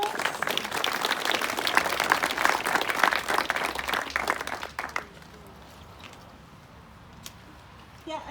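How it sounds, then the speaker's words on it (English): Outdoor crowd applause for parkrun volunteers at Horspath: dense, steady clapping for about five seconds that stops abruptly, leaving quiet open-air background. "can we start with a big thank you to all our volunteers, a round of applause."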